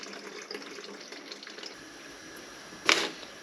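Water running into a container being part-filled for car snow foam, a soft steady trickle under faint background noise, ending in a sharp louder splash or knock near the end.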